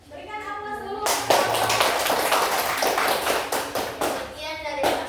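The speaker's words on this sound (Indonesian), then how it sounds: "Berikan aplaus dulu." Audience applause after a classroom presentation on preserving farm produce: a voice speaks briefly, then a sustained burst of many hands clapping fills the room for several seconds before fading back into voices.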